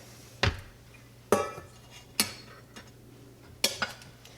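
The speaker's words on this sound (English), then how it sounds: "I'm just going to mash it with a spoon" A spoon mashing food in a dish or pan while making Reuben sandwiches, five or six separate clinking scrapes spaced about a second apart, close and fairly quiet over a faint steady hum.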